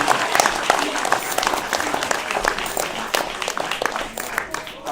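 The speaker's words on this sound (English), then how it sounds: "Big round of applause for this" An audience at a founder showcase event claps in a dense, sustained burst of applause that carries on throughout before thinning slightly at the end.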